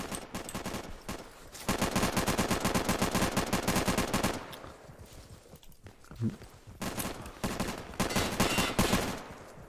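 Bursts of suppressive automatic fire in the game Insurgency. Long, rapid rattling strings of shots cut off briefly and then start again, fairly close and loud, with only brief gaps between the volleys.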